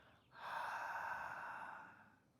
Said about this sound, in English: fog the mirror as you breathe out